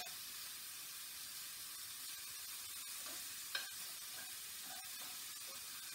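Mushrooms frying in a pan for beef stroganoff give a steady, quiet sizzle and hiss, with a few faint stirring clicks and one brief scrape near the middle.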